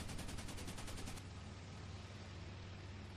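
Aircraft guns hammer at enemy bombers in the IL-2 1946 flight game over Henderson Field in the Pacific. A loud, rapid machine-gun burst rattles for about a second, then fades into a dense, steady engine and battle roar, with no voices.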